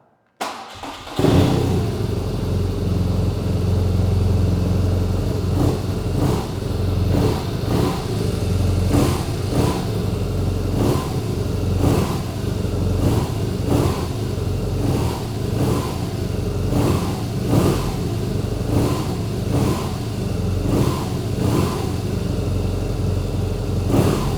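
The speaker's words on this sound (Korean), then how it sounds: "엔진 사운드 한번 들어보고요" A 2018 BMW R nineT Urban GS with an air-cooled boxer engine starts up and idles, a steady loud rumble with regular throttle blips and revs pulsing through it, heard close and alone without talk.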